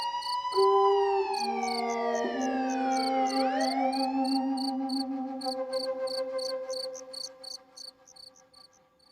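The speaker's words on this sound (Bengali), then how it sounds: "হঠাৎ শোনা যায় দূরে হর্ন বাজতে থাকা কোনো গাড়ি।" A distant police car siren wails in a Bengali mystery audio story, its tones sliding and overlapping against a rhythmic chirping of insects, loud at first and fading toward the end.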